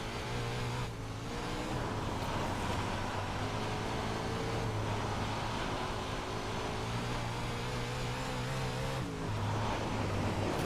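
A wingless 410 sprint car engine at Eldora Speedway in the iRacing simulator drones steadily and loudly throughout, its pitch rising and falling slightly with the throttle, with no talking.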